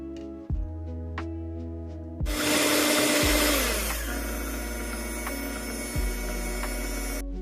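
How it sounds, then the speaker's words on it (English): An electric hand mixer whirs through sweet potatoes for a pie, a loud, close motor drone that starts and stops and shifts in pitch as the speed changes, with no talk. "We're going to be using a hand mixer."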